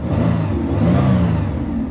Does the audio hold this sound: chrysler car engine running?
yes